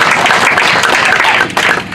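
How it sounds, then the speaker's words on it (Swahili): Brief burst of audience clapping at a scholarship beneficiaries' gathering, loud and close, a crowded patter lasting a couple of seconds and tapering off at the end. "Hebu mpee makofi jamaa."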